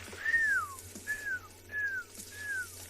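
A person whistles an imitation of an African grey hornbill at sunrise on Tswalu safari land: four clear, descending whistled notes, each sliding downward, spaced evenly against a quiet outdoor background.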